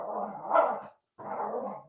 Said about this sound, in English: And the dogs are at it. So sorry about that.